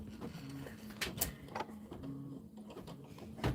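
A Kimberbell embroidery sewing machine stitching a tack down stitch, a close mechanical whir with a steady repetitive hum and faint clicks and thumps.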